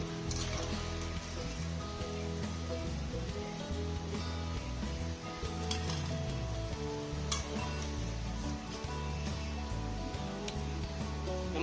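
Cauliflower chilli fries in oil in a pan, giving a steady, even sizzle and crackle that runs on without a break at a fairly soft level, with nobody talking.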